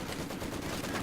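Dense, continuous automatic gunfire from a machine gun in Company of Heroes 2, a steady rattling barrage of overlapping shots with a battle din filling the background and no talking.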